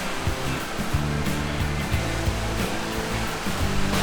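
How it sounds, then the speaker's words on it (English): Rushing water roars steadily and close by, a dense, unbroken wash of white noise from a cascading waterfall on the Falls Trail in Ricketts Glen State Park, Pennsylvania. "The first named waterfall."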